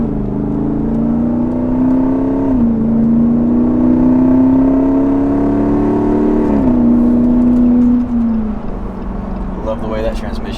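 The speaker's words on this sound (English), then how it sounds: "Love the way that transmission shifts with the burbles" A Jeep weighing 6,700 pounds drives along with a loud steady engine drone, its transmission stepping through shifts with dips in pitch and low exhaust burbles, close up and continuous.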